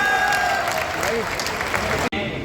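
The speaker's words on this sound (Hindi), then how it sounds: "सुरेश जी के लिए ताली बजाओ जोर से" A crowd at a political rally claps for a senior leader, a short burst of dense applause with voices mixed in, cutting out briefly near the end before resuming.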